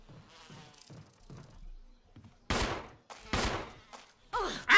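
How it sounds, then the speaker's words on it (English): Bees swarm and attack from a giant beehive in the Resident Evil HD Remaster video game: a faint buzzing stretch gives way to several loud, abrupt bursts of attack noise. "You see a giant beehive. Ah! Bees! Bees! Not the bees!"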